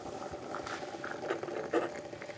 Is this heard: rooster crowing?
no